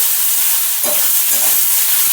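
Loud, close hissing sizzle of vegetables frying with fish, with brief scraping sounds as they are stirred in the pan.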